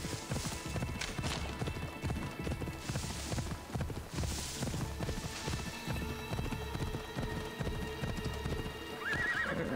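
Horse hooves clip-clop steadily at a gallop in the video game Assassin's Creed Odyssey, with a horse neighing and a faint background hum.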